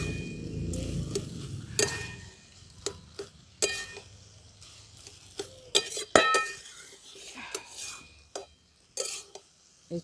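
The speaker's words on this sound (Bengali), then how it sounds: "এই চিনিটা দিয়ে ভালো করে মিশিয়ে নিচ্ছি।" Cabbage ghonto being stirred in a pot after sugar goes in, with scattered metallic clinks and scrapes of a spoon against the pot over a faint background hiss.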